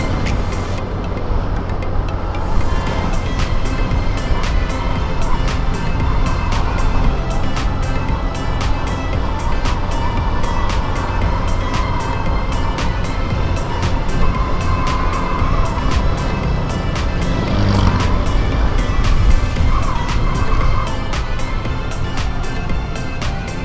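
Road traffic on Paliparan Road in Dasmariñas, Cavite, during heavy congestion: a steady, loud wash of engines and tyre noise from nearby vehicles, continuous throughout.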